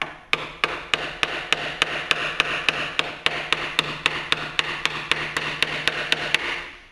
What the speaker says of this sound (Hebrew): בצורה הזאת לגלף עד שאנחנו מגיעים לעומק שאנחנו רוצים